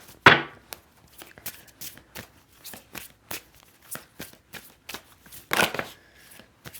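Tarot cards being shuffled up close, a sharp riffle at the start and near the end with rhythmic soft slaps of cards in between.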